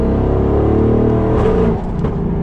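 A powerful 850-horsepower Brabus 4x4 engine roars loudly and steadily at close range, rumbling deep and revving throughout with a slight dip near the end.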